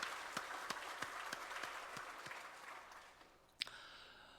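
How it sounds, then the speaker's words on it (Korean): A church congregation gives applause during a worship service: sparse, sharp individual claps at an even rhythm over a soft wash of clapping, with one louder clap near the end. "우리 찬양 받으신 주님께 영광의 박수 올립시다"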